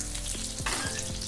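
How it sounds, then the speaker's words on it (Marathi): Potato pieces fry in oil in a thick pan over high gas, a close, steady sizzle with a few brief stirring scrapes. "अशा प्रकारे मोठ्या गॅसवरती चांगले ब्राऊन कलर येतपर्यंत छान तळून घ्यायचे"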